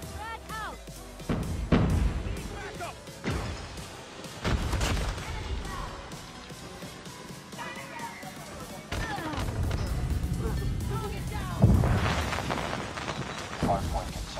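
Frag grenade explosions and gunfire in a multiplayer shooter's hardpoint match, loud repeated booms and thuds throughout, with a game announcer voice talking over them.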